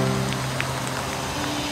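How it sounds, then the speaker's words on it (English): Steady rain falls on an alpine mountain trail in Idaho, an even broadband patter with a few faint closer drops, heard near and alone with no talking. "we're just waiting out the rain here at another location"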